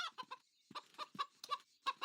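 Cartoon chicken clucking in short bursts, several quick squawky calls with brief pauses between them, close and fairly loud with no talk over it.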